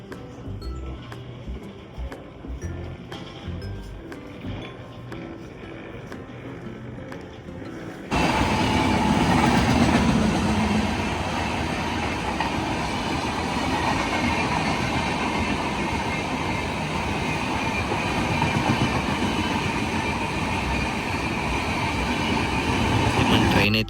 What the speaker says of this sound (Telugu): మన ట్రైన్ అయితే వచ్చింది.